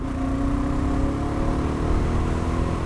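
A BSA Goldstar 650 single-cylinder motorcycle engine runs steadily at high revs, a loud, continuous droning buzz holding a nearly constant pitch throughout with no voices.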